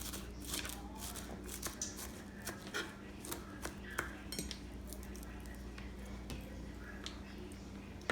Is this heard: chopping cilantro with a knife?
yes